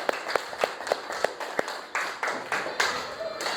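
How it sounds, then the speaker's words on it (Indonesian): Classmates clap for a student in a classroom, with a scattered run of sharp, separate hand claps at close range, uneven in rhythm, under faint background room noise. "Tepuk tangan untuk Napia."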